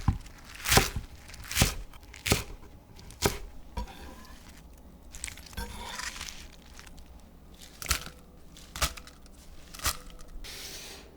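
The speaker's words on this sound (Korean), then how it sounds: "부추는 200g, 4cm 길이로 썰어 담아주세요." Knife chopping 200 g of Asian chives into 4 cm lengths on a cutting board: a series of sharp, separate cuts with pauses between them, close and fairly quiet, with no one talking.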